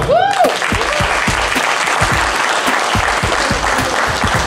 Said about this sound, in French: Mesdames et messieurs, applaudissez s'il vous plaît pour Aïcha Papa.